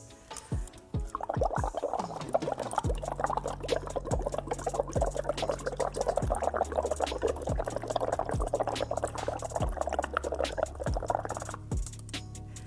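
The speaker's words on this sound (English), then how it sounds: "what happens when you simply blow a little bit of air into the water?" Air blown into a glass of ionized alkaline water makes a steady run of bubbling and gurgling that lasts about ten seconds, close and moderately loud, with no talk over it.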